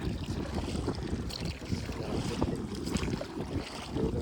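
A boat motors across a dam reservoir lake, giving a continuous churning rumble with gusts of wind buffeting the microphone, close and steady without any voices.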